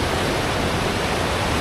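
A river rushes in Manali: a steady, loud, broadband roar of flowing water, close by and unbroken for the whole stretch, with no voices.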